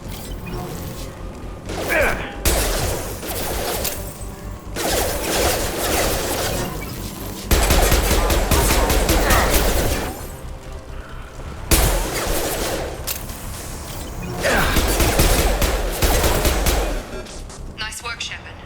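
Gunfire in the Mass Effect 2 video game fight against security mechs, loud repeated bursts of shots and mechanical clatter in several waves, with brief gaps between volleys.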